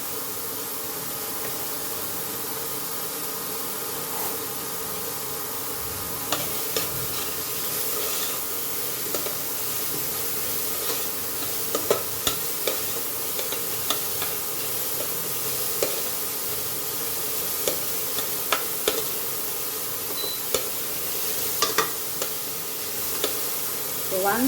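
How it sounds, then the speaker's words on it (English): Onion dry-frying in a pan with no oil, a soft steady hiss with scattered light scraping and stirring ticks, close and continuous, no talk. "So now we will add our onion without oil and just fry this"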